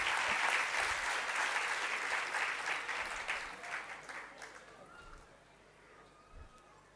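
An audience at a religious discourse applauds, a dense burst of clapping that is loudest at first and thins out over several seconds.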